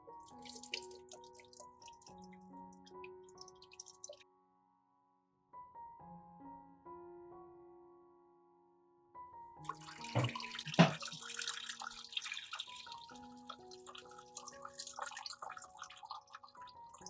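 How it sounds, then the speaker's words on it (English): Water trickles and drips from a jar into a pot, with a short quiet pause partway through, then a fuller splashing pour with clinks near the end. "pour the water from the jar into a pot."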